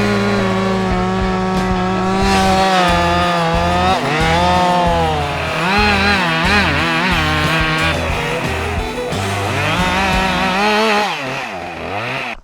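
Chainsaw felling a tree, running loud and close throughout with a continuous rasping engine drone that rises and falls as the throttle changes.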